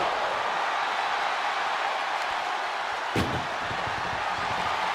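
Door slammed shut during a WWE match, one sharp heavy bang partway through, set against a steady loud crowd roar that continues before and after.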